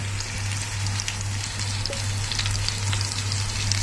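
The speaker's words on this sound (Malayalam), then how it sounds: "അപ്പൊ ആ എണ്ണ നന്നായിട്ടൊന്ന് ചൂടായതിന് ശേഷം നമുക്ക് ഈ മീൻ അതിലോട്ടൊന്ന് ഇട്ട് കൊടുക്കാം" Tilapia frying in hot oil in a pan over a high flame: a steady, dense sizzle and crackle with tiny pops throughout, close and continuous over a low electrical hum.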